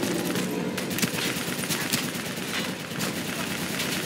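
Dense, continuous gunfire in the shooter game Call of Duty Black Ops 3, with rapid automatic bursts and scattered sharper shots layered into a loud, unbroken battle din.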